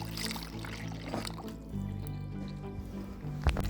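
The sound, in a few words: water being poured into the Uthfy air cooler tank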